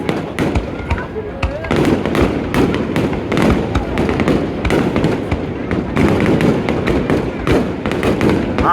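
Fireworks bursting at the Kanogawa fireworks festival in Japan, a rapid series of sharp bangs and crackles at steady rhythm, with nearby spectators chatting over the blasts.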